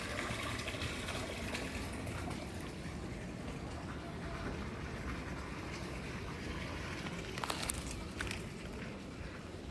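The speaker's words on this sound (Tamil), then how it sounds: "இது ஒரு தொட்டி இதை போர்வெல்லிருந்து விழுகக்கூடிய தண்ணி தண்ணி பார்த்தீங்கன்னா ஃபுல்லாக விழுகுது" A steady, heavy gush of borewell water pours continuously into a farm tank, a dense rushing noise throughout with a couple of brief clanks near the end.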